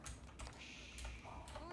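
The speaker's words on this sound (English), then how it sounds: "Stop typing to him." Fast keystrokes patter on a computer keyboard in quick, light clicks, close by and fairly quiet, with faint background noise.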